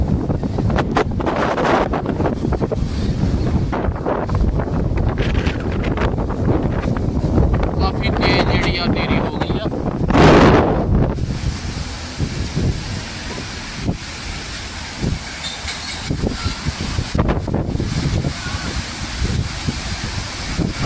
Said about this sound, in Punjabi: ਤੁਸੀਂ ਨੇਰੀ ਦੀ ਆਵਾਜ਼ ਸੁਣ ਸਕਦੇ ਹੋ